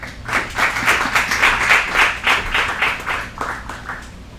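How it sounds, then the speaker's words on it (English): A small group claps for storytime readers, a steady patter of moderate applause with individual hand claps audible throughout, fairly close and without talk. "Everybody give them a round of applause."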